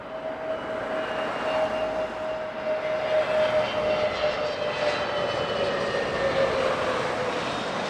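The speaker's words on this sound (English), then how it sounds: "First up is the Scandinavian Neo." An SAS Scandinavian Airlines Airbus neo jet passes at Heathrow Airport, its engines giving a sustained roar with a steady whining tone, heard at moderate distance without voices.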